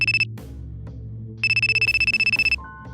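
A mobile phone ringtone goes off during a business meeting: a bright trilling electronic ring in two bursts with a short pause between, loud and close, no voices.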